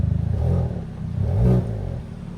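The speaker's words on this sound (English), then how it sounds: "So what you hear is simply from the exhaust" A Hyundai i30 N Performance with a DCT gearbox revs hard, its exhaust rising in two loud swells with a throaty, crackling rasp, heard up close from inside the cabin.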